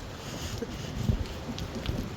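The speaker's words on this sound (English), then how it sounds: "It's very windy today" Strong wind buffets the microphone outdoors beside a parked van, a rough low rumble with gusty surges and a sharper thump near the middle, steady for a couple of seconds.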